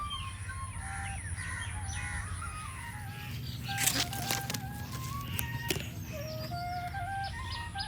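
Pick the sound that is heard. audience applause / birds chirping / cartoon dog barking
birds chirping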